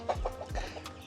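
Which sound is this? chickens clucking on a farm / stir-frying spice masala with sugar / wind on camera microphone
chickens clucking on a farm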